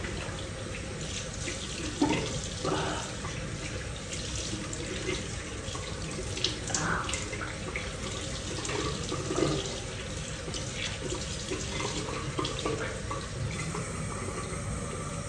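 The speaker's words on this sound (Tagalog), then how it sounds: "Mainit na tubig." Hot water runs steadily from a tap into a sink, a continuous splashing stream with a few brief clatters and knocks, fairly close, with no talk.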